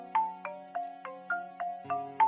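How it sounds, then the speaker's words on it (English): A mobile phone ringtone in the video game Broken Sword 5 chimes as a steady series of eight evenly spaced melodic tones, clean and moderately quiet with no voices. "Hold on, my phone."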